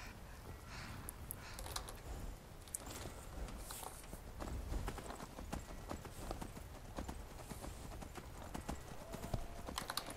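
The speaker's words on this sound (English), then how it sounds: "Ben, you're a good horse too." Horse hooves clip-clop steadily along in the game Skyrim, a close, even walking rhythm of sharp knocks that runs the whole time over a low rumbling background.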